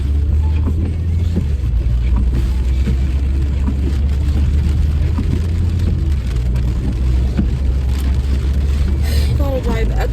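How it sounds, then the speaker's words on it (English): A car drives through rain, with a steady low road and engine rumble and a broadband wash of wet tyre and rain noise filling the whole stretch, fairly loud and continuous. "Gotta drive extra careful in the rain."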